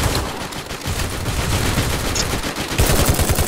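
Rapid bursts of gunfire in the video game Free Fire crackle continuously, dense and loud, like automatic weapons firing in quick succession without pause.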